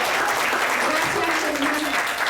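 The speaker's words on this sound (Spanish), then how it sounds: "démosle un aplauso al Señor" A church congregation at a Sunday service breaks into dense, steady applause that fills the room for a couple of seconds, with voices calling out over the clapping.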